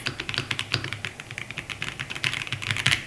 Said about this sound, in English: Let me quickly show you how the sound of this keyboard is.